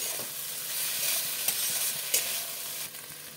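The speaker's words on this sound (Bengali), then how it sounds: "দিয়ে দিলাম ধনে গুঁড়ো জিরে গুঁড়ো। মশলাগুলোকে ভাজবো।" Ground coriander and cumin fry over low heat in a pan for masala bhindi, giving a steady soft sizzle broken by scraping stirs and a few sharp clinks of the spoon, with no voices.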